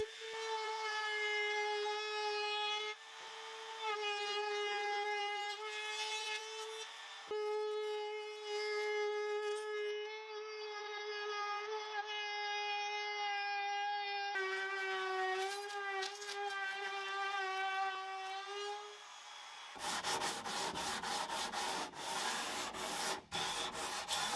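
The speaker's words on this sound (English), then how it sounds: "I'm going to add a chamfer to all the inside edges" A router cuts a chamfer along the inside edges of a plywood storage rack in a workshop. A loud, steady, high motor whine runs for about twenty seconds, with brief pauses, then gives way to a harsher burst of rough cutting noise.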